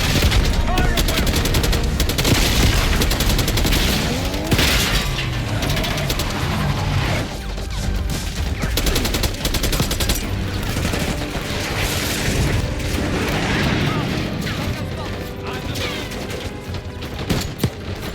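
Dense, continuous gunfire in the Black Ops 6 shooter game, rapid automatic bursts, booms and crashes layered loudly over each other with combat noise filling the whole stretch, voices faintly mixed in.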